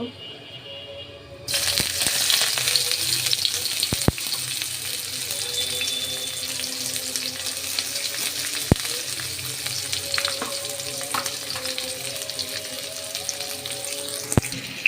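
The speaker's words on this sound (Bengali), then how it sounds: "এখন আমি পেঁয়াজ কুচি দিয়ে দেব।" Chopped onion hits hot oil already holding whole spices like garam masala, cardamom, cloves and bay leaf, setting off a loud, steady sizzle and frying hiss that runs continuously, with occasional stirring clicks and no talk.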